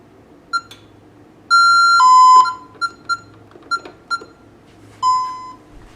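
A Honeywell Vista 20P security panel keypad sounds a panic alarm: scattered short electronic beeps and a few longer steady tones, loud and close, with no talk.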